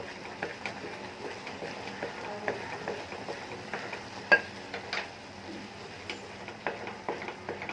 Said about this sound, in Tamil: கொதிச்சுட்டு கேப்பையை போடுறேன்.